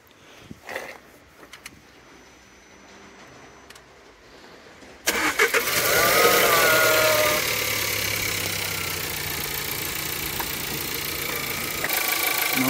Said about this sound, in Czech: Studený motor, jak to přišlápnout.